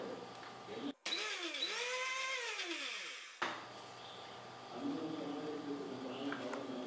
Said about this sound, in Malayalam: രണ്ടും കൂടി നമുക്കൊന്ന് അടിക്കാം ജസ്റ്റ് ഒന്ന് ബ്ലെൻഡ് ചെയ്യാനായിട്ട്